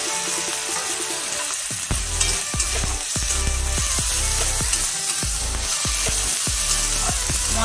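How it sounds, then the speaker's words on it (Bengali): Ginger paste and spices frying in a pan for a fish curry, a steady loud sizzle with repeated scraping strokes of a spatula stirring the mixture, close up, no talking. "আমি আদা বাটা দেবো, দিয়ে একটু কষিয়ে নেব।"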